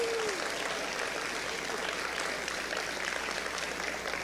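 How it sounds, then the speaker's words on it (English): Applause from a live esports crowd at a Halo HCS event, honoring the casters and crew: a steady, dense wash of clapping that holds for several seconds, moderately distant. "can we give them a round of applause"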